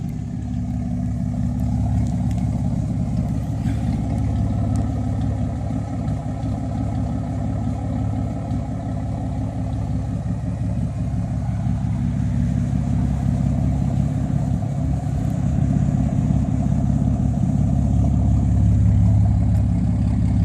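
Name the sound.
2000 Dodge Dakota Sport engine idling, twin cats exhaust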